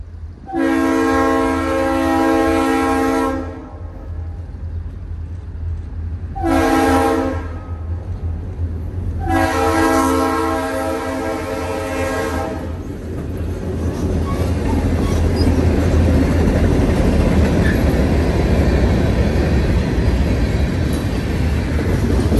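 Ex-Conrail SD40-2 diesel locomotives hauling southbound freight H66 at Walnutport, Pennsylvania, sound three loud horn blasts, long, short, then long, before a deep engine rumble and rolling rail noise build steadily.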